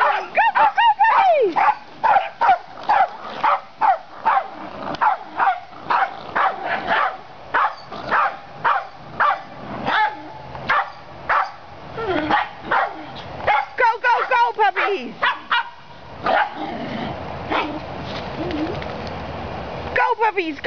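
Several fluffy puppies bark and yip rapidly outdoors in Methuen while running around, a loud, near, continuous stream of barks with a person's voice mixed in.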